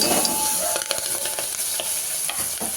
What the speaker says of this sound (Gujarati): આપણે એમાં થોડી હિંગથી વઘાર કરીશું અને આપણે મરચાં અને બટેટા જે સમારેલા છે એ આમાં એડ કરી